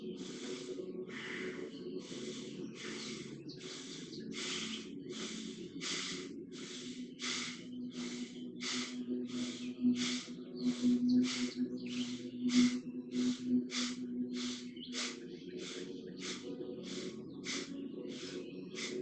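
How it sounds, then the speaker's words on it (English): Rapid, forceful yoga breaths repeat in a steady rhythm of about thirty short bursts over a low continuous hum. "So we will do deep inhale, deep exhale with the movements of the hands."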